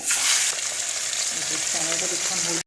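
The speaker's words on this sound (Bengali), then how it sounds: "কড়াইতে তেল গরম হয়ে গেছে এক এক করে মাছগুলো ছেড়ে দিই" Salted pomfret fish sizzle loudly in hot oil in a wok, a dense steady crackle that starts with a sharp hiss as the fish goes in, with faint clinks late on.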